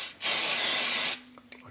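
One sharp, close burst of aerosol catalyst spray onto super glue, a hissing spray lasting about a second before stopping abruptly.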